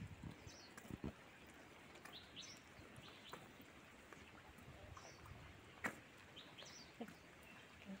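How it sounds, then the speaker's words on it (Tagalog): Several birds chirp and call in short, faint bursts against a steady outdoor background near a wooded street in Hong Kong, with a few louder close calls standing out briefly. "Ito ay mga ibon."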